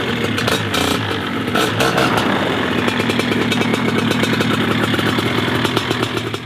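A Moster paramotor engine runs loud and close with a rough, buzzing two-stroke drone, and rapid clattering pulses come through after the first couple of seconds.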